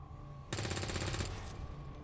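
Gunfire in the strategy game XCOM: War of the Chosen, heard as a loud, rapid burst of shots that starts suddenly and rattles on for about a second before fading into a low hum.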